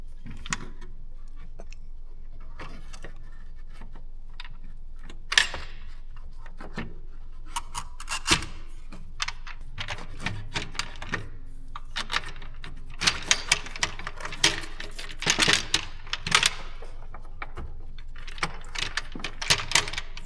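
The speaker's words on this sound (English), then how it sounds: "Got all the bolts on this plastic manifold torqued down." Bolts being tightened down on a plastic intake manifold with hand tools, a close run of irregular ratchet clicks, metallic taps and rubbing scrapes, busier and denser toward the end.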